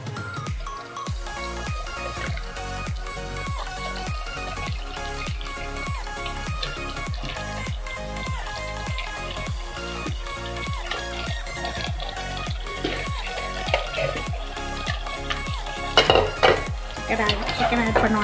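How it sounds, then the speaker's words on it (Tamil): One kilo of chicken stirred into biryani masala with mint and coriander in a pot: rhythmic metal spoon scrapes and clinks against the vessel, steady and close, over a low sizzle, with talking in the background. "சிக்கனை ஆட் பண்ணோன்னா நல்லா கிளறி விட்டுக்கலாம்"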